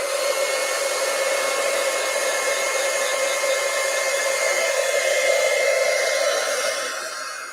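A heat tool melts embossing powder on a stamped card, producing a steady, loud, continuous blowing whir that runs uninterrupted and eases off slightly at the very end, with no talking.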